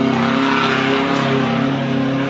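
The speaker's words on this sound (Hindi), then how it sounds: "एग्जॉस्ट भी मॉडिफाइड है बिल्कुल, नेक्स्ट लेवल आवाज़ आ रही है बिल्कुल एग्जॉस्ट से" Mahindra Thar 4x4 with a modified exhaust revving loudly off-road, a steady close engine roar with strong harmonic drone holding for a couple of seconds, no talking.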